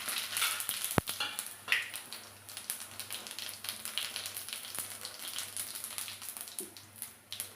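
Cumin seeds, dry red chillies, bay leaf and asafoetida sizzling in hot oil for mutton curry, a steady close crackle with scattered pops and a few stirring scrapes, no talk.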